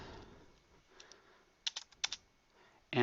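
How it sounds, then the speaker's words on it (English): Soft, sparse keystrokes on a computer keyboard, a few light taps followed by a short cluster of sharper clicks, close and quiet with pauses between them. "So here we're just going to type in here"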